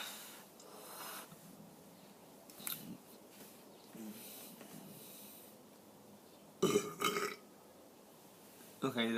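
A person lets out a loud, drawn-out burp, then a second belch begins at the very end. Quieter mouth noises come first, against a quiet indoor background.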